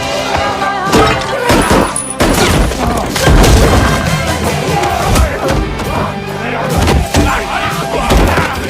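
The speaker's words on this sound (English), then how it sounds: "A brutal fight exploded inside the house." A violent struggle inside a house, loud thuds, slams and impacts mixed with shouting and strained cries, dense and chaotic throughout, close and loud.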